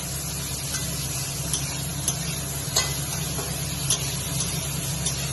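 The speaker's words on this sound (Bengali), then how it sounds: "এবার একটু এটা লাল লাল করে ভাজতে হবে পেঁপে আর আলুটাকে।" Potato and papaya pieces fry with turmeric in a pan, a steady low sizzle with soft stirring scrapes and occasional clicks of the spatula, close and continuous with no voices.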